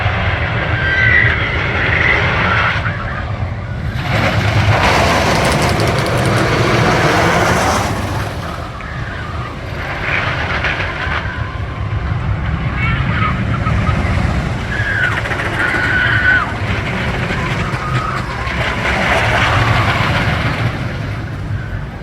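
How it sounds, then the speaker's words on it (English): Back-row ride on the El Toro wooden roller coaster at Six Flags Great Adventure: a continuous loud rumble and roar of the train on track, swelling in waves with wind noise, no talking. "an amazing back row ride here on El Toro"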